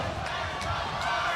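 Wrestling crowd at a Lockdown event in a Nashville arena: a steady, dense roar of many voices filling the space, with commentary talk on top throughout.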